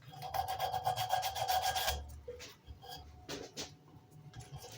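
A vintage wooden screwdriver handle is sanded by hand with quick, rhythmic rasping strokes for about two seconds, then slower scattered rubs and a few clinks of handling, close and fairly quiet.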